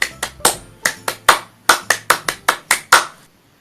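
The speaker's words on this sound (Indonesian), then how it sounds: "kita akan tepuk pramuka dulu." Scouts performing the rhythmic Pramuka scout clap in unison, about fourteen sharp group claps in a patterned beat with brief pauses, crisp and close, ending in silence.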